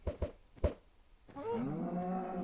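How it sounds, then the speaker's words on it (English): Cows mooing in a video game: a few short thuds, then one long, low, drawn-out moo up close, with no talking. "Stupid cows."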